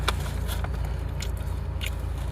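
Crunchy salt and pepper chips being bitten and chewed up close: four sharp, crisp crunches spread over a couple of seconds, with a low background hum and no talking.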